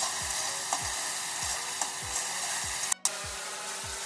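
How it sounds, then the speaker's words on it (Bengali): A masala of poppy seed and white mustard pastes fries in a pan, its even, hissing sizzle running throughout with regular soft low thumps from stirring and one brief dropout near the end. "দিয়ে ভালো করে একটু কষিয়ে নেব"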